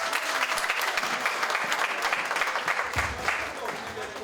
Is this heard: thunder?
no